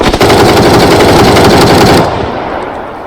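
Loud rapid automatic gunfire from the PUBG video game on PC erupts in a dense, continuous burst for about two seconds, then cuts off and leaves a fading echo.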